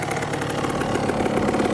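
A restored dirt bike engine idles steadily close by, with a rough, even, throbbing chug and no voices over it.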